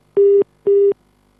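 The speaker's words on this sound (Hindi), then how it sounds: "इनके फोन लाइन डिस्कनेक्ट हो गई है" A telephone busy tone sounds after a caller's line disconnects on a live TV call-in segment: two loud, clean identical beeps, each about a quarter second, evenly spaced, followed by silence.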